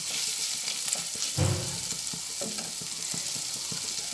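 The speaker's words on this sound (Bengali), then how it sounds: "গ্যাসের ফ্লেমটা একদম কমিয়ে রেখে এগুলো সব ভেজে নিচ্ছি।" Ginger paste frying with other ingredients over a very low gas flame, a continuous soft sizzle with intermittent stirring scrapes and taps, nearby and without voices.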